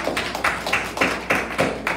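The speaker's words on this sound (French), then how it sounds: "nous applaudissons seulement" Applause from a church congregation during a Sunday service: a series of sharp, evenly spaced clapping bursts about every quarter second, close and fairly loud, with no talk over it.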